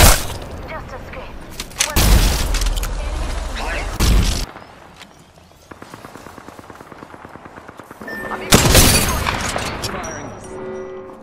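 Gunfire in Apex Legends comes in loud bursts of rapid shots separated by quieter stretches of game sound, with lighter ticking clicks and a faint voice in between.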